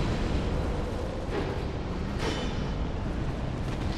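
An ash crawler explodes in Dark Souls II, a loud, dense, roaring blast of noise lasting several seconds with no speech over it.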